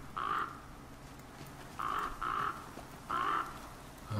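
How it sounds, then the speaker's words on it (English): Crow caws from the survival video game The Flame in the Flood, sounding as three bursts of harsh calls spaced a second or so apart over a quiet background, with no talking. "What's up with the crow?"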